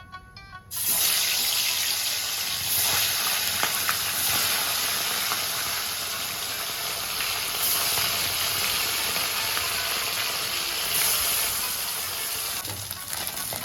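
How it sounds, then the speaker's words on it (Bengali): Pieces of bata fish frying one by one in hot oil for Bengali-style posto, a steady loud hissing sizzle that continues without pause, with no talking. "এদিকে তেলও গরম হয়ে গেছে এবার আমি মাছগুলো এক এক করে ভেজে নেবো"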